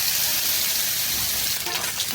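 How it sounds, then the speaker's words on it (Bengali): Pabda fish fry in oil, sizzling and crackling steadily, a close, continuous frying hiss with a few brief pops. "পাবদা মাছগুলো একটু লাল লাল করে মশলা করে ভেজে নেব"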